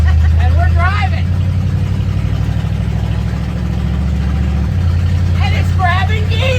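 The engine of a tow van runs loudly and steadily while it drives, its drone shifting pitch once partway through as the gear changes, with voices talking briefly over it.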